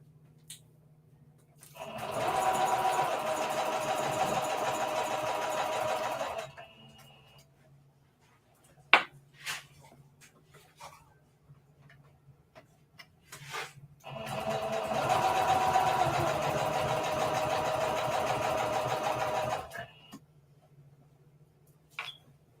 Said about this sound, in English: So right now I'm just doing a, I'm stitching in the ditch is what they call it.